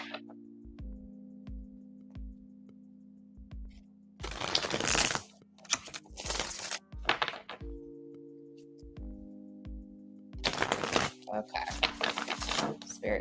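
Tarot cards are shuffled in quick riffling bursts, close and fairly loud, alternating with a steady mechanical ticking hum in the background and no talk.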